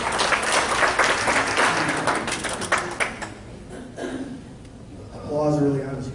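Applause from the audience at a club's general membership meeting, a dense burst of clapping that thins out, then someone speaks over the fading claps.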